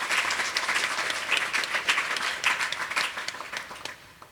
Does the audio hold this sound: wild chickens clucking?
no